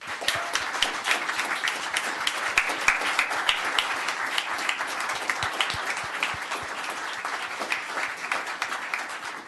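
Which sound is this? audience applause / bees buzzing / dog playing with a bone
audience applause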